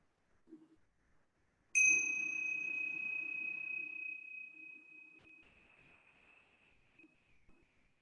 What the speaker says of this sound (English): I'm going to invite the sound of the bells, seeing if you can hear the sound of the bells all the way through until there's no sound